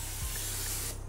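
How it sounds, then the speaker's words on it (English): A paint spray gun in a backyard paint shop sprays paint in one steady, loud hiss that runs for almost a second, then cuts off abruptly. "Just spray like a line on it."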